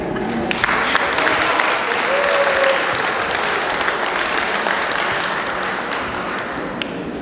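Sustained applause from an audience at a school year-end ceremony, a dense, even clatter of many clapping hands that holds steady throughout, with a faint voice briefly audible.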